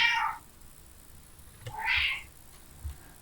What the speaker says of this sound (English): my cat has come in and is unhappy that she can't sit on my lap while I'm doing this